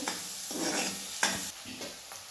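Egg curry masala is roasted in a pan and stirred, a soft sizzle underneath scraping strokes and one light knock, close and quiet with no talk.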